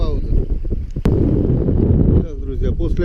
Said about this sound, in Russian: все равно ничего не слышно, потому что ветрище ураганные